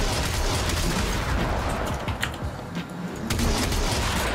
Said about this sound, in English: Just notice how you're basically firing a lot of shots really quickly